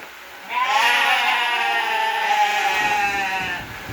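A goat bleats in one long, wavering cry, loud and close, held for about three seconds with no talking.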